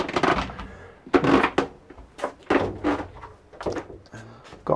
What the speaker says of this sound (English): start by coming up my creaky steps